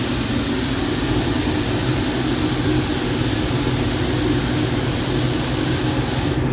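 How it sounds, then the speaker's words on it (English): High-pressure spray gun laying lacquer onto a BMW M3 body in a paint booth, a steady, loud, continuous hiss with an even roar underneath that holds unbroken before cutting off at the very end. "Nice high pressure on that one, it gets the lacquer on really fast"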